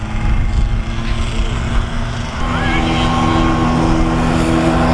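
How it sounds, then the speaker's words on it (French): Prepared racing mopeds passing on the Chambley circuit at a Solex event, a continuous loud two-stroke engine drone that steadies and rises slightly midway, with a faint voice underneath. "La deuxième mob, voilà, qui passe."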